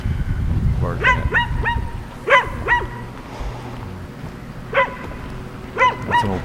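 A dog barks persistently from some distance in a New Hampshire town, sharp barks coming in quick pairs and triplets with pauses between them, over outdoor ambience and footsteps of someone walking.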